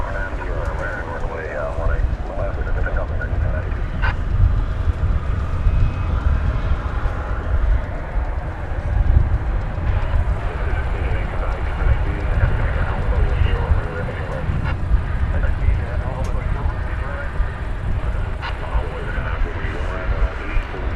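Jet aircraft taxiing at DFW Airport at night, a steady broad engine rumble and whine that holds at a constant level throughout, with people talking over it.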